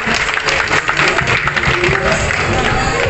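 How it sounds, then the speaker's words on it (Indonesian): An audience at an anniversary gathering in Indramayu claps with dense, continuous, fairly loud applause filling the room for a few seconds. "Tepuk tangan berkenas."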